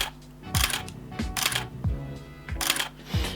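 A Canon 6D Mark I DSLR firing its shutter in silent mode, close to the microphone: five soft, drawn-out mechanical clicks spaced roughly evenly, each a muffled two-part clack, with quiet room tone between.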